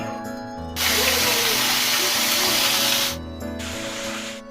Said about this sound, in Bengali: সর্ষের তেল দিয়ে দিচ্ছি গরম হয়ে গেছে তেল গরম হয়ে গেছে মাছগুলো ভেজে নেব